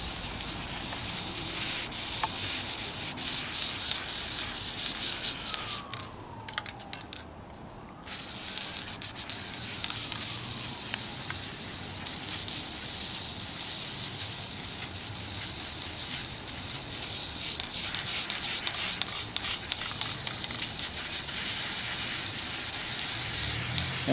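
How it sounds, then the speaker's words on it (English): PJ1 air filter spray cleaner sprayed onto a dirty KLR 650 motorcycle air filter outdoors, a long continuous aerosol hiss close up, with a brief pause partway through before the steady spraying resumes. "We're going to use some PJ1 air filter spray cleaner"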